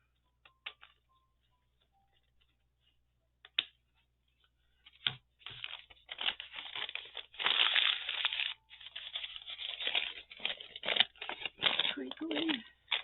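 Crinkly paper being folded, creased and cut with scissors while making a small handmade mini book, giving close, busy crinkling and snipping sounds that build to a steady rustle after a few quiet isolated ticks.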